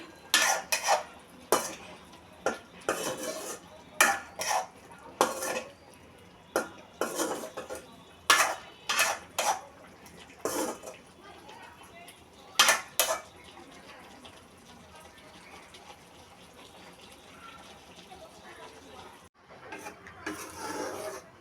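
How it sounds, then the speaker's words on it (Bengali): Raw banana curry with rohu (katla) fish being stirred and sautéed in a pan: repeated rhythmic scraping strokes of a utensil against metal over a low sizzle, close, thinning to quieter frying later, no speech. "সব কিছু দিয়ে ভালোভাবে কষিয়ে নিচ্ছি"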